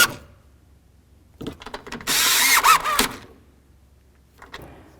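Bolts on a GMC Sierra 1500 door lock being snugged up by hand tool, a few short ratcheting and rubbing bursts with one louder sustained grinding stretch near the middle, close and alone.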